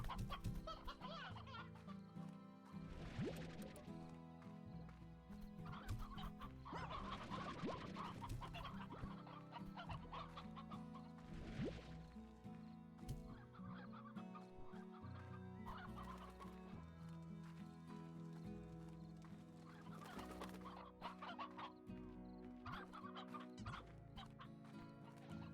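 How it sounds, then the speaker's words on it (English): Chickens cluck in a video game ranch, many overlapping bursts of clucking, fairly faint and continuous alongside steady background tones, with no talking. "there's a lot of chickens nearby all of the time"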